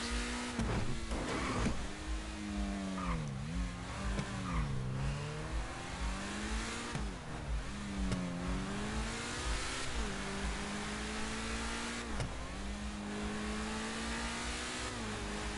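A speedmobile engine revs repeatedly at a race start, rising and falling in loud, close whines over a steady rumble, with no talk.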